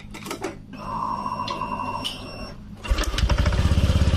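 A Honda Vario Techno 125 scooter, low on radiator coolant, starts up with an electric whine and tone, then settles into a close, steady pulsing idle as the radiator fan spins; no one speaks.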